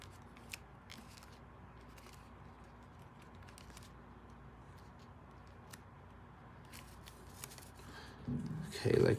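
Paper being creased and folded by hand into an F-37 Vigilante paper airplane: soft, close rustling and crinkling with light taps throughout, ending in a louder flurry of handling.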